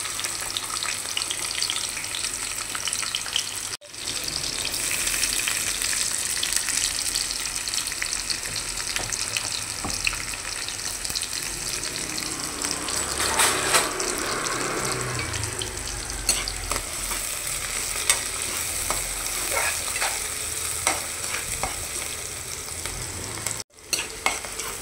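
Cumin, green chillies and onion sizzle and crackle in hot oil in a pan while being stirred, a continuous close frying hiss with scraping stir strokes throughout, no talking.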